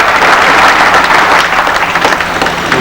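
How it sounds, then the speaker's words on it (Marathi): A hall audience breaks into loud, sustained applause at a coin-weighing felicitation ceremony honouring Sheshraoji Doiphode, Nitin Gadkari attending, the clapping dense and steady with slight swells. "आपण टाळ्याच्या गजरात एकदा पुन्हा टाळ्या वाजवा."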